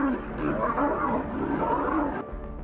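A lion roars in a sustained, rough, loud bellow lasting nearly three seconds, dominating the sound with a heavy, rumbling texture and a brief dip near the end.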